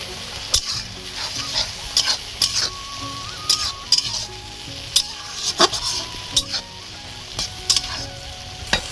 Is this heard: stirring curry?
yes